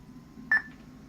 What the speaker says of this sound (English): Single beep indicates that it's set to auto start.